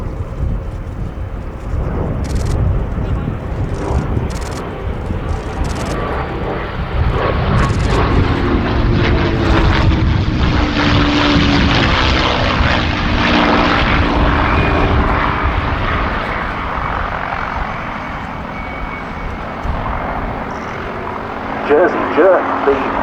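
Loud, steady engine roar from a North American P-51D Mustang warbird at an air show, sustained throughout with a commentator's voice talking over it.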